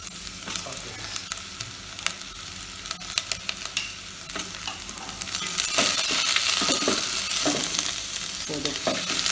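About two chopped green peppers are sautéed in a pan for a pulao, a loud continuous sizzle with frequent scraping stirs and occasional clinks, growing fuller and louder toward the end, with no speech.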